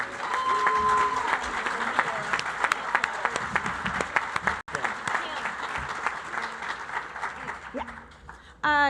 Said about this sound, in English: Let's give another round of applause for the graduating class of Missouri Realtors Leadership Academy